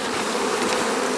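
A dense, loud buzzing of many honeybees swarming close by as they are shaken out of a nucleus box into a hive, steady and continuous without a break.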